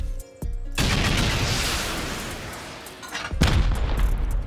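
Rockets launched at defensive turrets during a base raid in a survival video game, heard as a sudden loud blast that trails into a long roaring wash, followed by a second burst of impacts near the end.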